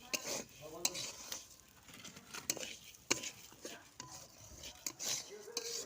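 Dal frying in mustard oil in a kadai, with soft sizzling, stirring scrapes and clinks of a spoon against the pan, close and moderately quiet.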